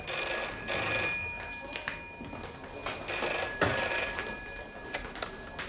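An outgoing telephone call rings down the line in a 1987 TV crime thriller, with two long bell-like ring bursts separated by a pause. It is moderately loud and there is no talk.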